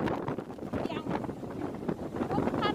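Strong storm wind at Cattolica, Italy, buffets the microphone with a steady, rough roar, while a person talks over it throughout.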